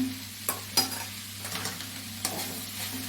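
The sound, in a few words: stirring mackerel thoran in a frying pan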